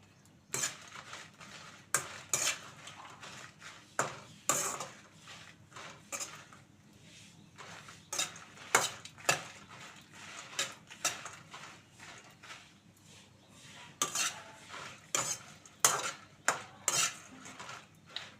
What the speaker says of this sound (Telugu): ఇవైతే వేస్తున్నానండి ఎండుమిర్చి ఉట్టిగా వేగిపోతాయండి